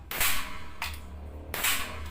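A Nimrod toy cap gun fires three sharp, bright cracks, spaced unevenly, each ringing briefly before fading, heard close and alone.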